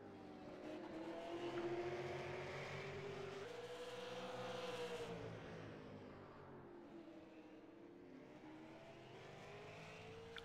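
Super late model race car circling a short oval track, its engine revving and rising in pitch as it runs by, then fading into a steady distant drone, heard faintly.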